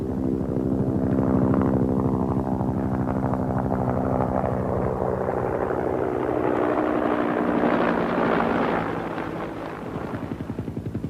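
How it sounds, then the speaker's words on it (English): Helicopter circling about a mile out and passing back overhead at roughly 500 feet, a steady loud rotor drone with pulsing blade chop that swells and shifts as it nears, with no talk. "We asked the pilot to go out 1 mile, circle, and fly back over us at 500 feet."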